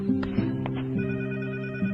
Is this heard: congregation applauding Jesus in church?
no